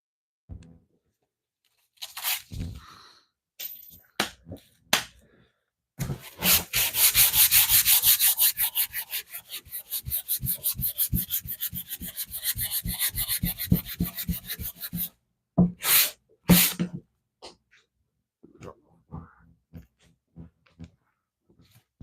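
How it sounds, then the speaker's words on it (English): Wood is sanded lightly by hand in a woodworking shop, heard as a close, dry rasping. Short scattered strokes give way to a long run of fast back-and-forth rubs, followed by a few more isolated strokes and then quiet. "I'm gonna do just a light hand sand over this, instead of trying to bring out the sander and everything."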